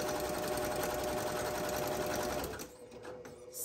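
A sewing machine runs continuously at a steady fast pace, stitching the bottom seam of a fabric tote bag, then stops abruptly, leaving a few soft handling clicks.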